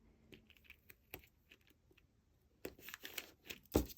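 A strip of tape is torn off for a shaker card: quiet crinkly ticks and soft rips lead into a louder, sharper tearing burst near the end, close to the listener.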